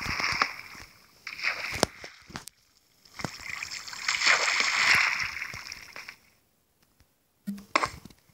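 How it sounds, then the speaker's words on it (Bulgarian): Water splashing in a survival video game on a lonely island, with bursts of splashing and sloshing separated by short quiet gaps, fairly close and moderately loud. "И тук има вода."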